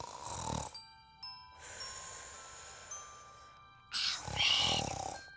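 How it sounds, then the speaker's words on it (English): Cartoonish snoring from a children's cartoon in repeated rounds, each rough inhale followed by a whistling, tinkling exhale, with pauses between them. "Quit snoring!"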